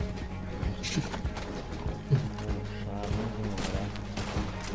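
Horse hooves clip-clop in Red Dead Redemption 2, a steady trotting patter with a brief whinny-like cry, set against game music and ambient noise.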